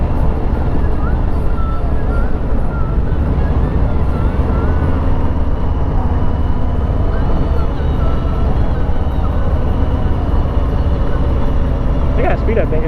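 A Harley-Davidson Street Bob FXBB 2020 rides along, its loud continuous engine rumble and wind roar steady throughout, close and dominant with no clear voices above it.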